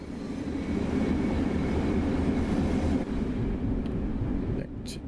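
A passenger train in the Train Sim World 5 game, hauling a mix of old Bombardier steel and new Rotem aluminium carriages, runs as a steady, loud rolling rumble, easing briefly near the end.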